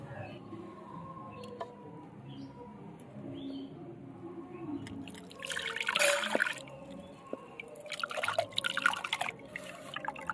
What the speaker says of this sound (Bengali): জলটা ঝরিয়ে নিলাম ভালো করে